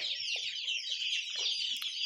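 Black chicks and chickens, hundreds kept together for sale in Andijan, produce a dense continuous chorus of high peeping and clucking, steady and loud, with a few lower clucks beneath.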